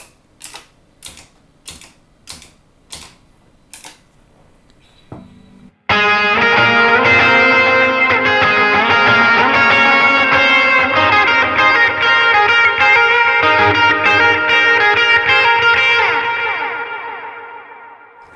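Electric guitar played through a Line 6 Helix with a thickened tone and delay: a few short, separate picked notes, then a loud sustained strummed chord ringing with echo repeats for about twelve seconds before fading out.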